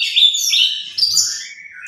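An oriental magpie-robin (kacer) sings close and loud in a quick run of sharp, high whistled chirps and trills, with a brief pause in the middle.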